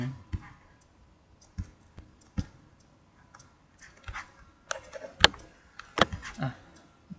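Computer mouse clicks in a simulated stock trading program, sparse sharp single clicks spaced irregularly, a few closer together later, in a quiet room.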